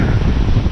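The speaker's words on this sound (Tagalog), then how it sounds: "Kalakas ang hangin, ah." Strong wind gusts roar loudly against the microphone in a brief, buffeting rumble.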